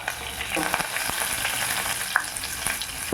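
Four cinnamon pieces and cloves tempering in hot oil for a Tamil tomato kuzhambu give a continuous bright crackling sizzle. Sharp pops and a few stirring clicks sit on top, with no voices.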